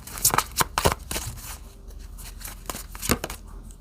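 Tarot cards are shuffled and drawn close by, giving a quick run of crisp riffles and taps, then a quieter pause and a few more sharp card snaps.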